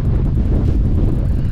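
Strong wind on Cnicht mountain in Snowdonia, North Wales, buffets the microphone in a constant low roar, loud and steady throughout with no voices.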